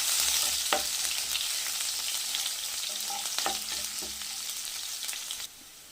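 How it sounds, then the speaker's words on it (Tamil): Onions sautéing in a pan for carrot tomato rice, a continuous close hiss of frying with occasional spoon clinks and stirring scrapes, cutting off abruptly near the end. "வெங்காயம் போட்டுடலாம் போட்டு வதக்கிக்கலாம்"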